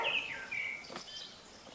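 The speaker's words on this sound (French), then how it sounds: "J'entends les oiseaux." Birds sing in a quiet Bulgarian village about half an hour from Veliko Tarnovo, with a few high, fairly clear chirps and whistled calls that come in short phrases and then fade over a soft, calm background.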